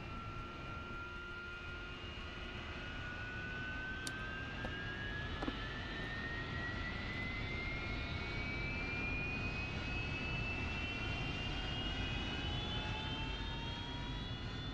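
Harrier jet engine spooling up during startup in the DCS World flight simulator, a steady turbine roar with a rising whine climbing gradually over the whole stretch, alone and fairly even in level.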